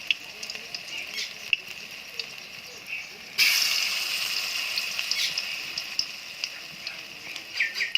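Leaf fritters (bara) frying in hot oil in a kadai give a steady crackling sizzle that jumps louder partway through as more batter goes in, then keeps bubbling close up.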